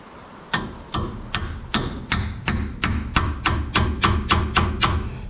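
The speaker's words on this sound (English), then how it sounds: "We can tap it in with a hammer." A hammer tapping a part into position, about thirteen sharp, evenly spaced knocks ringing out close and loud with no talk.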